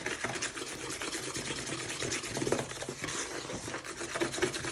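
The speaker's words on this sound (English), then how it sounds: "just keep giving it a good whisk" Eggs and caster sugar being whisked by hand in a bowl for brownie batter, a steady, close scraping and clattering that continues without pause and with no talking.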